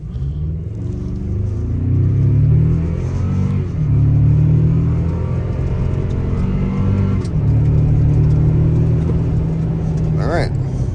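A 2024 Toyota Tacoma TRD Sport 4x4 with a 2.4-liter turbocharged hybrid engine accelerates hard from a stop, a steady loud in-cabin engine drone with gear-shift dips, heard from inside the truck.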